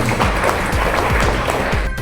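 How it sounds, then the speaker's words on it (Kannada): Loud applause at a school celebration honouring Kalingaraya: a crowd of students claps steadily, with a few sharp individual claps and thumps standing out over the dense rhythmic clatter. "ಕಾಳಿಂಗರಾಯರಿಗೆ ಜೋರಾದ ಚಪ್ಪಾಳೆ"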